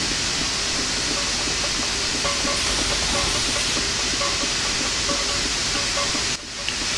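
Continuous steady steam hiss from the try cocks of a Big Boy steam locomotive in Train Sim Classic, a dense broadband rush lasting throughout with a brief drop near the end.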